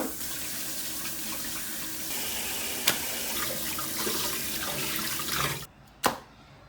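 Tap water runs in a steady, loud stream as pork is rinsed in a sink, then cuts off near the end, followed by one brief splash.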